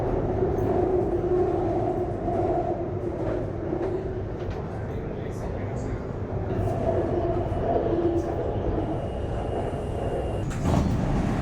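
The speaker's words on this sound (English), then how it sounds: "this is a 4 or 5 minute train ride" Steady rumble of a train ride through Bangkok, with rolling wheel noise and low hum carrying throughout, faint tonal whine layers drifting in and out, and a brief clatter near the end.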